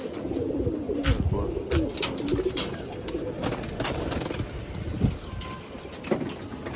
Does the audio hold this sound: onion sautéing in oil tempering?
no